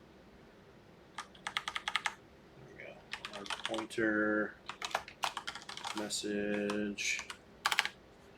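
Bursts of typing on a computer keyboard, close and crisp in short rapid runs, alternating with someone speaking quietly.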